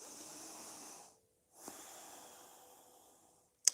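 Slow, steady breathing through the nose during a yoga session: a long soft airy inhale, a short pause, then a long hissing exhale, faint and close with no talking.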